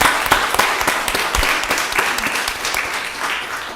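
Audience applause at a county board of commissioners meeting, a dense, steady burst of many hands clapping that carries loud and unbroken through the room with no talk over it.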